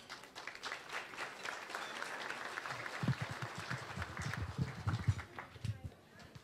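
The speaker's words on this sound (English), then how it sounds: "Let's give them a warm round of applause." At an agricultural hall of fame banquet, the audience breaks into warm applause, a fairly faint, steady patter of many hands clapping together in a room that continues for several seconds.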